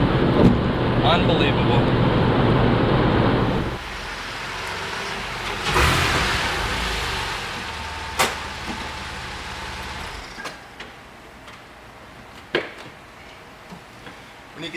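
A Porsche 911 pulls hard in third gear, its engine loud and close for the first few seconds, then fading under a steady road and cabin rumble while someone speaks briefly and a few sharp ticks and clicks punctuate the drive.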